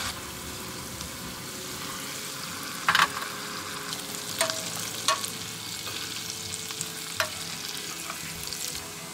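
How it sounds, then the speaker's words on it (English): Pinnacle vodka simmering in a pan for penne alla vodka, a steady close sizzle and bubbling hiss with a few sharp clicks of a utensil against the pan. "We're going to let the vodka cook for 4 minutes."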